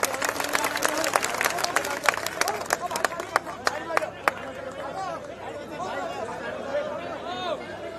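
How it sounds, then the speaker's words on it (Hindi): Crowd at a Haryana election rally for Akash Anand of the Bahujan Samaj Party: brisk, sharp clapping for the first few seconds, then fading into a busy hubbub of chatter and voices. "माननीय आकाश आनंद जी जोरदार तालियों से वेलकम।"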